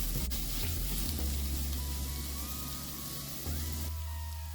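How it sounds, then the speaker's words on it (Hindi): Garlic and green chillies frying in oil for egg korma, a steady close sizzle with soft crackling and an occasional stir, no voices. "सबको मिला के हम थोड़ा सा और फ्राई कर लेंगे"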